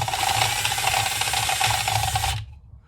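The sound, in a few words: drilling a 1-inch hole in plywood with paddle bit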